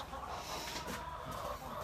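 White Leghorn chickens cluck nearby in short, busy bursts against a rough background noise.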